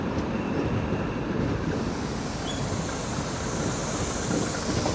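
An old diesel locomotive hauls a train in reverse at Vijayawada Junction, giving a continuous loud rumbling roar that stays even throughout with no talk.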